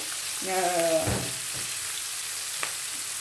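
Spiced yam and long beans frying in coconut oil with crushed pepper for a Kerala-style stir-fry, giving a steady close sizzle throughout while a voice briefly murmurs over it.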